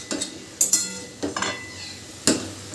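Metal lid set down on a cooking pan of mixed pumpkin greens, a few sharp clanks and clinks spaced across a short stretch in a quiet kitchen, with no voices.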